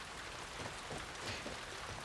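Steady rain falls over Seattle in The Last of Us Part II, a dense continuous hiss of drops with no voices and an even level throughout.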